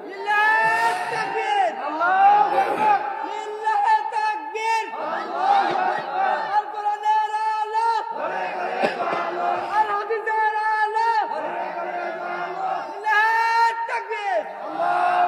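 A large crowd at a political rally chants takbir, with a leading voice and many voices answering together in repeated loud, rhythmic waves of shouting.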